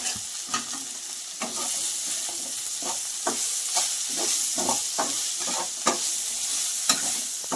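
Ivy gourd and egg frying in a pan give a steady sizzling hiss, broken by frequent clinking, scraping stirs of a utensil against the pan, near and alone with no talk.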